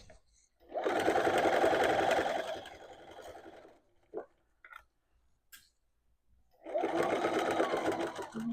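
A sewing machine stitching the light fabric of a dress runs in two steady bursts close by, separated by a quiet pause with a few small clicks and taps.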